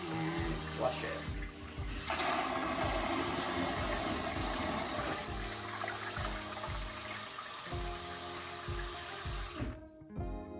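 A sensor-triggered toilet gives a short pre-flush and then a powerful full flush, a loud steady rush of water lasting several seconds, with a person talking over it.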